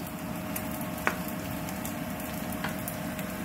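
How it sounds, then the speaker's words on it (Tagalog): A quiet, constant frying hiss rises from Chinese ham, chili and scallop browning in oil for XO sauce, with one or two faint taps from a utensil. No voices are heard. "Lahat to ay i-fry natin to hanggang mag-brown."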